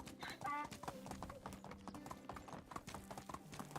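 Horse hooves clip-clopping steadily in the medieval survival game Medieval Dynasty, a quick rhythmic trot under game music and light ambient sound, with a brief burst near the start.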